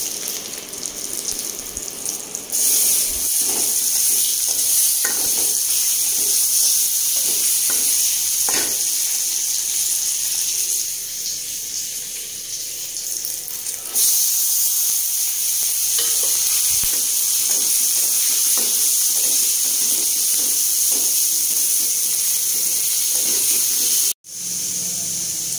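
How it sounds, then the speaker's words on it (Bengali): Spices crackle and sizzle steadily in a little hot oil, a loud continuous frying hiss with stirring scrapes, ending with a brief cut-off. "আর এই তেলেই আমি ফোড়নটা দিয়ে দেব"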